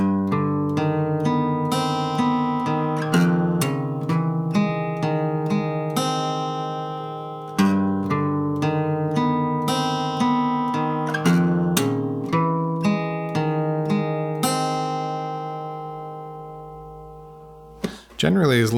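A capoed acoustic guitar picks a dark folk pattern, with ringing open strings alternating with fretted notes in a steady flowing rhythm, close up and alone, ending with a brief scrape.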